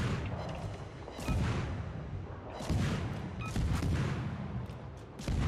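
Naval artillery guns firing in World of Warships: a few deep, heavy booms spaced a second or so apart, fairly faint and rumbling, with broad low-end blasts over steady ambient game noise.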